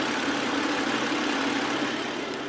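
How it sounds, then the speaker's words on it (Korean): An inline six-cylinder car engine idles with the air conditioning switched on, a smooth, steady, even hum with a constant low drone and no change in pitch. "에어컨이 켜져 있지만 엔진 소음을 먼저 들려드리면은"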